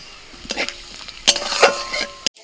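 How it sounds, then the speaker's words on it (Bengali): A bay leaf and whole cumin seeds hit hot oil as a tempering for a cauliflower and chicken dish, giving short crackling sizzle bursts with light stirring scrapes, close and fairly loud. "তেলের মধ্যে ফোড়নে দিচ্ছি একটা তেজপাতা, গোটা জিরে"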